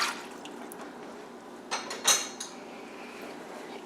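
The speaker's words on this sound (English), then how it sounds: "So I'm going to add 1 cup of water" A cup of water is poured into a pressure cooker holding sausage and lentils, a soft trickle under faint metallic clinks, with a brief louder splash and clatter in the middle and a knock at the end.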